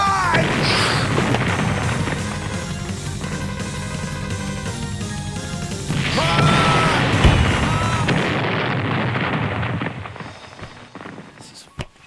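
Video game explosions from a Mega Man title boom and crash in a dense, loud burst of blasts layered over game music, continuing for several seconds before fading out.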